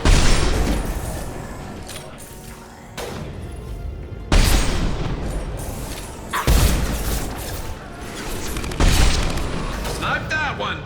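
Rockets explode one after another in Mass Effect 2 combat on Insanity difficulty. Four loud, sharp booms land a few seconds apart, each trailing into rumbling decay, with a voice talking between them.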